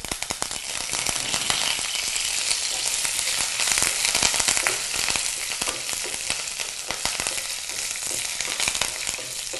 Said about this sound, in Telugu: ఎండుమిర్చి కరివేపాకు 2 వేగుతున్నాయి కదండి